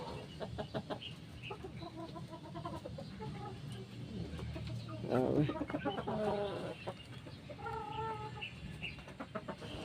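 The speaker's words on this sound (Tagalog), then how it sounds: "Yan lang ang manok namin dito na 7 months" Seven-month-old chickens on a farm, scattered clucks and short calls near and far over a soft outdoor background, with a louder burst of squawking midway.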